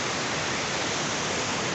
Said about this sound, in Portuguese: Cachoeira Braz Gomes, Floresta OMI.